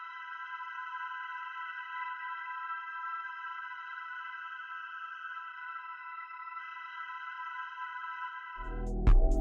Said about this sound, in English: Second plugin I used Omnisphere with this preset.